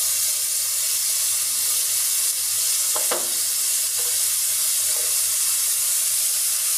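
Ginger, garlic, cumin and onion paste with turmeric and chili powder sautéing in a pan, giving a steady broad sizzle with a few short scraping stirs near the middle, close and without speech.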